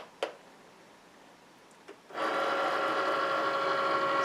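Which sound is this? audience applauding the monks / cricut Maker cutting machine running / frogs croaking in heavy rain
cricut Maker cutting machine running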